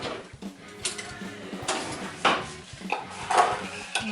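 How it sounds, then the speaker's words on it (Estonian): Spoon mixing ingredients together in a bowl, with a few scraping clinks and knocks against the bowl's sides, close and moderately quiet, with no talking. "Nii, segan need asjad ilusti ära."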